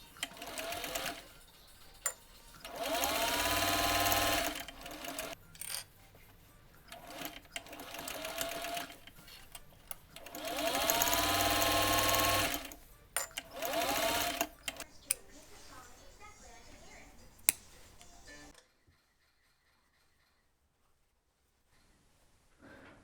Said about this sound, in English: I tried to sew pieces butted against each other so that I saved my thread.